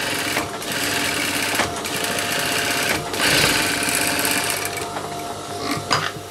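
A sewing machine runs loud and close while double stitching the bottom of a pair of drawstring shorts, its rapid motor buzz continuous with brief pauses and no voices.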